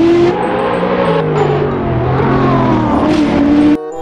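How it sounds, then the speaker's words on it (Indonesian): A toy race car gives off a continuous revving engine whine with rising and falling pitch, loud and close, lasting several seconds before cutting off abruptly near the end, with no talking over it. "Kalau yang ini mobil balap."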